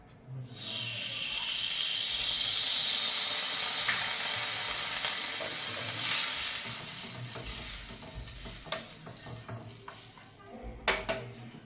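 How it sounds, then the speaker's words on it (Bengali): Fish pieces for a fish-head muri ghonto hit hot oil in a pan with a sudden loud hiss, settling into a steady close sizzle that gradually fades, followed by a few sharp utensil clinks. "এবার একটু মাছটাকে ভাজবো"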